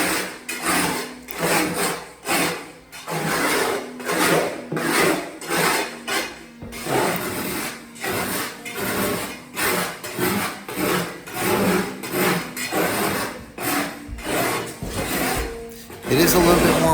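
High spots being scraped off a day-old mortar base with a hand tool before Ditra goes down in a shower build. The result is a steady run of rhythmic, gritty rasping strokes, close and continuous.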